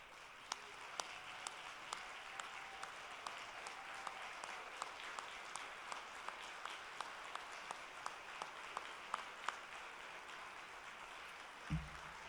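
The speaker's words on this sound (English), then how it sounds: "If the members of the 2010 men's lacrosse team will stand up and applaud us for all you have done and accomplished." Audience applauding at an athletics hall of fame ceremony, faint, distant, sustained clapping with a few sharper individual claps standing out, ending in a brief low thump.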